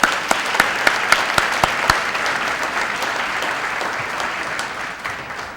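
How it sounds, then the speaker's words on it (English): Loud round of applause from the audience at a Black History luncheon, dense clapping that starts with a few sharp distinct claps and holds steady before tapering slightly. "Let's give him another round of applause."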